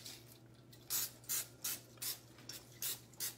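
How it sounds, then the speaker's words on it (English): Seven short, evenly spaced hisses of olive oil cooking spray puff out one after another, close and fairly soft, over a faint low hum. "I'm using spray olive oil."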